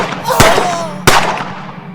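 Two sharp, loud gunshots about half a second apart in a scary-story dramatization, each with a ringing tail.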